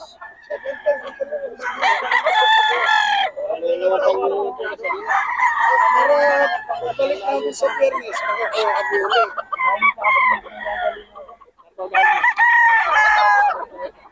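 A yellow-legged hatch gamecock rooster crows repeatedly, loud and near, with several drawn-out calls. Other fowl crow and cluck at a market, and voices chatter in the background.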